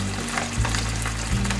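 Firm tofu pan-frying in oil, a dense, steady sizzle close up with a low hum that shifts in pitch, continuous and without voices.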